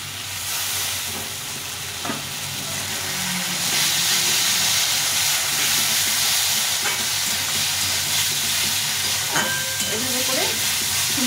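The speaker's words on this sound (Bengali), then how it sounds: "এই ডালটাকে ভালো করে ভেজে নেব" Masoor dal frying in a spiced masala in a pan: a steady loud sizzle and hiss that swells midway, with occasional scraping stirs and clinks of a spoon, no talking.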